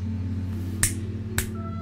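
Two sharp finger snaps, spaced about half a second apart, ring out over a steady low electronic hum, close and fairly clear with no talking.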